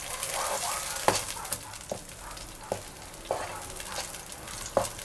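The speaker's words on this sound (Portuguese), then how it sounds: "vamos misturar bem para homogeneizar a nossa massa, nosso creme." Spoon scraping and stirring a thick creamy mixture for escondidinho de carne de sol in a pan, with regular knocks against the pan over a soft sizzle.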